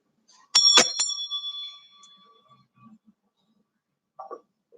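A meditation bell rings at the close of a yoga meditation: a struck tone that fades slowly with a long shimmering ring, followed by a soft, brief sound near the end.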